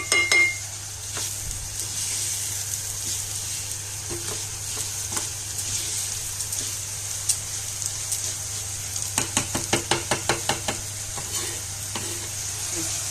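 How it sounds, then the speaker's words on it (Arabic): Orzo pasta frying with chicken liver in a pan sizzles steadily, with a burst of rapid spoon scrapes and clinks against the pan as it is stirred late on. "نيجي نشوف لسان العصفور نقلبه تقليبه"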